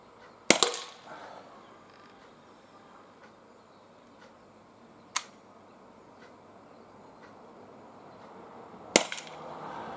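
HDR 50 revolver fired at a 10 to 15 metre outdoor shoot: three sharp, fairly faint pops spaced seconds apart over quiet ambience, the first and last followed by brief clatter; no talk.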